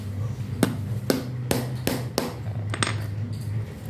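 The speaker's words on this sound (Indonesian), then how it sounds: "Nah, kita palu pelan-pelan aja." A hammer taps a metal rivet into a satin ribbon ID-card lanyard with about seven sharp, bright knocks, irregularly spaced and close, with a faint clink on some strikes and no talk.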